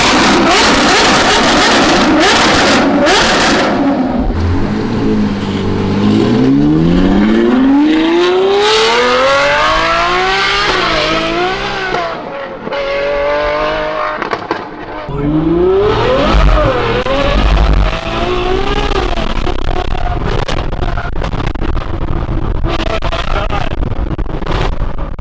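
Ferrari 812 Superfast with a Ryft titanium exhaust, loud and close, revving repeatedly as the engine pitch sweeps up and down, with crackling pops between the revs and excited voices talking over the engine.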